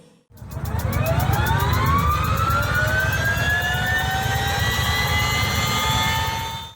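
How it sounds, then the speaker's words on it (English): An MTT Y2K turbine-engine motorcycle spools up with a rising whine and steady jet-like roar, holding a loud, continuous hiss before easing off at the end. "When started, the MTT Y2K emits a hissing sound like a jet aircraft"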